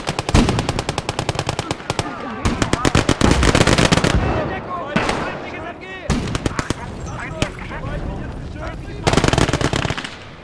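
Machine gun fire in the WWII strategy game Call to Arms: Gates of Hell: loud rapid bursts of automatic fire, stopping and starting, with single shots and booming artillery mixed in and voices talking throughout.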